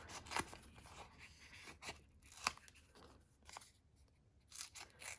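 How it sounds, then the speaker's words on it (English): Scissors cutting out a light pink paper rectangle for a craft stick journal, with a series of quiet, crisp snips at an uneven pace, close but faint with no talk. "So I have my light pink rectangle that I'm gonna cut out."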